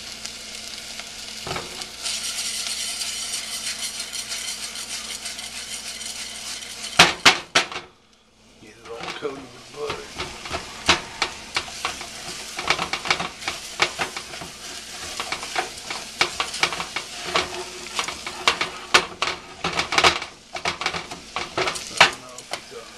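Garlic and rice for risotto sizzle and fry in a pan, a steady crackle broken by a short pause, then renewed frying with frequent scraping stir strokes and clinks of utensil against the pan.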